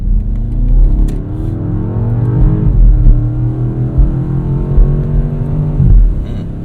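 A 2025 BMW M5 Touring with its hybrid V8 accelerates hard, heard from inside the cabin, its loud engine note rising in pitch through the gears, with brief dips at shifts and no talking.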